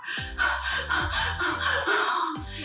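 A voice imitates rapid panting through the mouth, quick breathy huffs in a steady rhythm, close and fairly loud.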